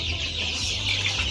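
Kuroiler chickens cluck softly and continuously as a close flock sound, with a steady hiss of background noise and no talking.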